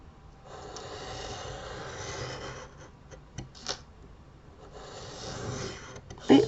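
A scalpel draws along a metal ruler and cuts card for a Christmas window card, giving a close, continuous scratchy rasp that pauses in the middle, then a second stroke and a soft knock at the end.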